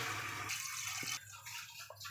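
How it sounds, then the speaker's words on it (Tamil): Water poured into a pan of biryani masala with mint leaves, a short, faint splashing pour that breaks off and resumes in brief bursts. "2 கப்பு தண்ணி ஆட் பண்ணிக்கலாம்."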